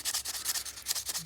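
Close, steady back-and-forth strokes of 320-grit sandpaper wet sanding a pocketknife, a rhythmic rasping scrub repeating about five times a second, with no talking.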